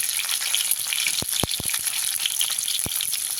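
Eggs fry in hot oil in a pan, a loud, steady sizzle with a few sharp pops and crackles, close and continuous with no talking.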